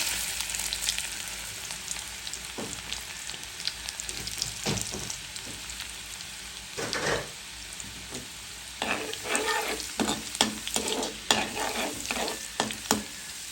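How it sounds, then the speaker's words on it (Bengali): Garlic and panch phoron tempering for dal sizzles in hot oil, a steady close crackle with repeated sharp stirring scrapes and clinks in a home kitchen. "ডাল বাগার দেওয়ার জন্য দিয়ে দিলাম পাঁচফোড়ন ডালটা বাগার দিব দিয়ে দিব রসুন কুচি"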